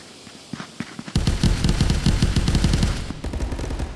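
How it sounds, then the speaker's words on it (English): Rapid bursts of gunfire in a VR shooter match, crackling loud and dense near a capture point, running almost continuously after a quieter opening second. "Sounds like there's some gunfire outside."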